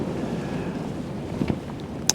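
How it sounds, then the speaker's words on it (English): Strong wind buffets a microphone at a fishing lake during a winter match, a steady low rumble of gusts with a few brief knocks and rattles near the end. "The wind is really getting up now."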